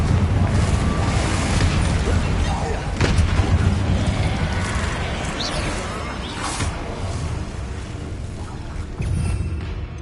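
The Confringo fire spell goes off in Hogwarts Legacy with a deep booming blast that rumbles and fades, followed by more thuds and crackles in dense game combat noise.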